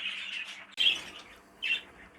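Show poultry, adult and young birds, squawk in two or three sharp, loud bursts, with a steady low hum of a shed in between.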